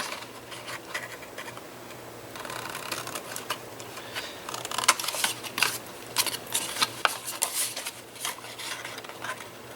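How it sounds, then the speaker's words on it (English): Paper being cut with scissors along the inside of a score line while making a faux flat box, heard as a run of quiet, close crisp snips and rustles that grows denser midway, with a faint steady hum underneath. "And just cut them on the inside again of the score line. So, cut this one off right here."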